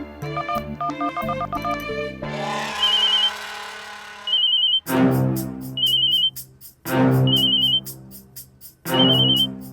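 A telephone rings insistently: a quick electronic ringtone melody gives way to loud repeated ringing bursts with short pauses between them, continuing unanswered.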